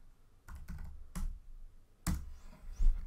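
Typing on a computer keyboard, with a few separate clusters of close key clicks and pauses in between, against faint background hiss.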